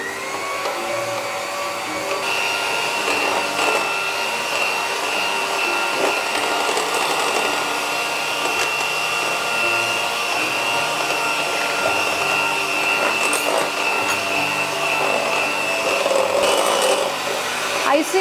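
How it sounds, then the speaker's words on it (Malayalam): An electric hand mixer beats eggs with icing sugar, its steady high whine continuing throughout at close range with small rattles from the bowl; a voice speaks faintly underneath. "കുറേശ്ശെ ഇട്ടിട്ട് വീണ്ടും ബീറ്റ് ചെയ്യുക"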